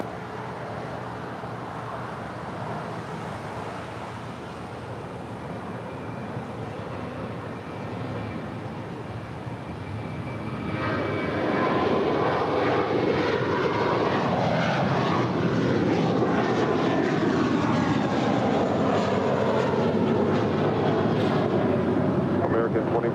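An airliner rolls for takeoff on runway 25 right at LAX, its jet engine roar building sharply partway through into a loud, steady broadband rumble with wind buffeting, while radio talk is heard faintly beneath.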